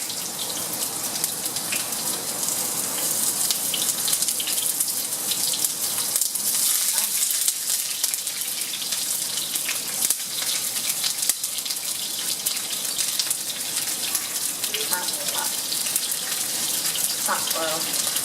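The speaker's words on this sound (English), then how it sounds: "So I'm just going to separate these and put them in my pan." Milanesa steaks sizzling in very hot oil in a pan, a constant dense hiss and crackle of frying that holds steady with small pops along the way.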